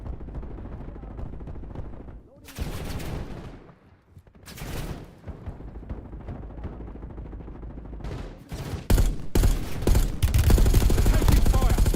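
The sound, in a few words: gunfire from a video game shooter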